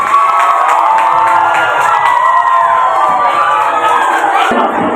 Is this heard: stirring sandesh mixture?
no